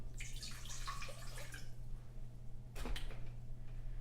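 Water pouring from a tap into a pot for grits, a splashy rushing stream for about two seconds that fades out, followed by a short clunk near the end over a steady low hum.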